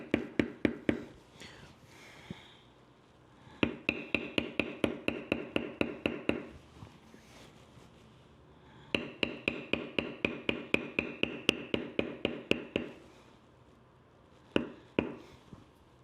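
Leather beveling with a tooling bevel on a canteen purse: sharp mallet strikes in quick even runs of a dozen or so taps, close and crisp, with pauses between runs and a few isolated strikes near the end.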